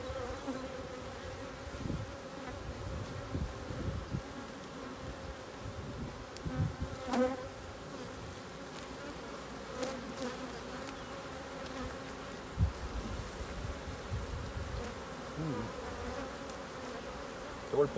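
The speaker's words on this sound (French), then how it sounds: "tout ce qu'on voit là c'est des abeilles" Honeybees swarm around an open beehive with honeycomb exposed, a dense, continuous buzzing close by with occasional louder passes and soft handling knocks.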